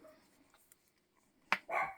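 A small dog lets out a sharp bark followed by a second yappy bark after a quiet stretch, close by and fairly loud against near silence.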